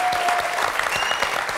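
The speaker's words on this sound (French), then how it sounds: "Je vous demande de l'applaudir." A French TV talk-show audience applauds a guest being called up from the crowd, a dense, even wash of clapping that carries on without a break.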